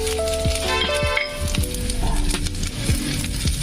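Peanuts roasting in a pan sizzle loudly and steadily at close range, with frequent stirring scrapes and small rattles breaking through the continuous hiss.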